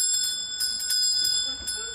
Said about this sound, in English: Think I'll ring the school bell now.